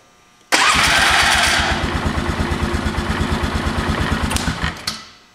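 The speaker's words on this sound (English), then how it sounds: "Starter is kind of making a funny noise" A replacement starter on a Polaris Sportsman 500 ATV, making an odd noise, cranks loud and close with a fast, even chugging rhythm for several seconds before cutting off.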